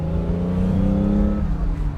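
A 1972 Ferrari 365 GTC/4 drives through suburbia at operating temperature, its engine a steady, loud, close hum that rises in pitch and then settles, with no talking over it.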